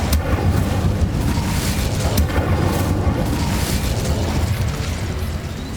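Fire spell cast in Hogwarts Legacy, a loud, sustained roaring whoosh of flames that stays dense and close throughout, easing off slightly near the end.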